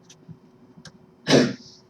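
A single sneeze bursts out loud in a quiet room toward the end, preceded by a couple of faint breaths or sniffs.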